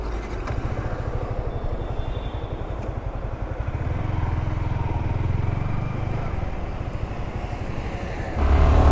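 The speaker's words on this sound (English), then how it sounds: "let's not waste any time and go ride this motorcycle" A Yamaha R15 sport motorcycle being ridden, its engine a steady buzzing drone heard close up under rushing wind, holding a fairly even pitch with a slight swell toward the end.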